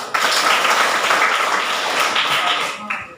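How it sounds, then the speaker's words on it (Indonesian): A group of children claps together briefly, a patter of many hands lasting a few seconds that trails off, with faint voices mixed in. "Oke, baik. Tepuk tangan."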